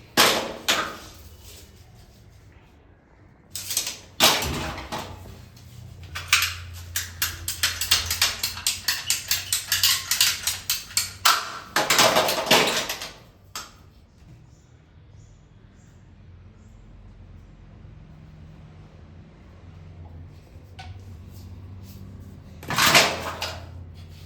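Plumbing pipe being cut to a 6.25 inch length, heard as a dense run of rapid scraping, sawing strokes in the middle, with scattered knocks and handling clatter before and after in a quiet room.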